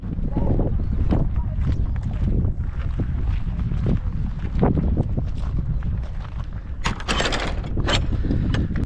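Strong wind buffets the microphone on the hilltop at Firle Beacon, with loud, continuous gusting roar and sharp bursts of rumble, under a little talk.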